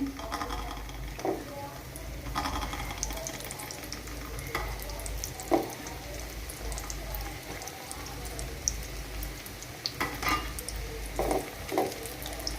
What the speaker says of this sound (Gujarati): આ જ રીતના આપણે બીજા પણ મુઠિયા તળી લઈએ.